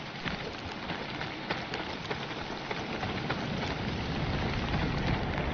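Steady rainfall patters across a surface in the video game Dawn of Defiance, a dense, even hiss with scattered sharper drop ticks, continuous and moderately loud with no talking.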